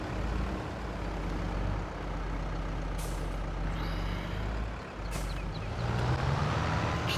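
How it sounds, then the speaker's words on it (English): A small tractor's engine labors under heavy load, a loud, rough, close drone that dips and surges, with a short hiss near the middle and a rising strained whine toward the end. "This poor little tractor's struggling with it all."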